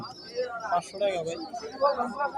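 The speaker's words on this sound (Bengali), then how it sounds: "এগুলো দেশি কবুতর" Local pigeons coo at the Tulsihat pigeon market, their soft, low cooing mostly under nearby people talking.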